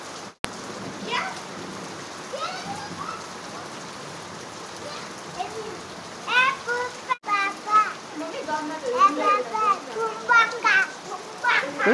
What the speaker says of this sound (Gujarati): ધુપાકા ધુપાકા થાય કરા પડે હે.